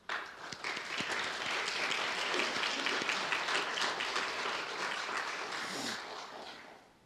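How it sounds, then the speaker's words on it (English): Sustained applause from an audience at an Eagle Scout court of honor, a dense wash of many hands clapping that holds steady for several seconds before fading out at the end. "I ask everyone to join me in recognizing the accomplishments and character of all Eagle Scouts with a round of applause."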